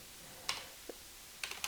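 Sparse keystrokes on a computer keyboard, a handful of light clicks with one small cluster near the end, close and quiet over faint background hiss.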